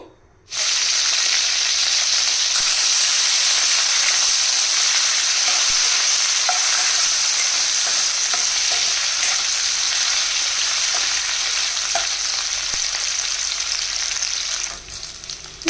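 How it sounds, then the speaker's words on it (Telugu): Dried anchovies (nethallu) frying in hot oil, a loud dense, unbroken sizzle that starts abruptly and holds steady for a long stretch, with faint stirring taps and no voices. "ఇప్పుడు ఫస్ట్ నెత్తలు ఫ్రై చేయాలి"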